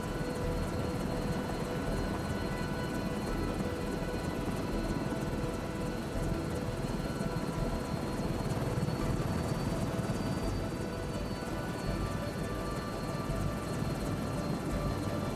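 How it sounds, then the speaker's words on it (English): Helicopter in Microsoft Flight Simulator 2024, a constant dense rotor and turbine drone with a rapid fluttering chop, steady and loud throughout, no speech. "Very difficult to control the helicopter"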